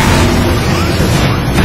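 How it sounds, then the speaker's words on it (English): A ship's reactor core explodes in the Transformers: War for Cybertron video game, a loud, dense rumbling blast that roars continuously for under two seconds with no break. "The core's about to detonate."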